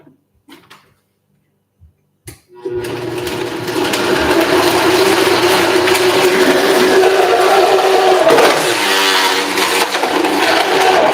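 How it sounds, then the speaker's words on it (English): A powerful kitchen blender switches on after a few quiet seconds of small clicks and handling noises, then runs loud and steady with a whirring motor drone that shifts slightly as it mixes chilli-rubbed chicken kofta ingredients. "whew, it is a powerful blender"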